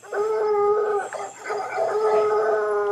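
Coon dogs howl at a raccoon outdoors, sustained tonal howls from nearby overlapping into a loud chorus with a brief dip before resuming.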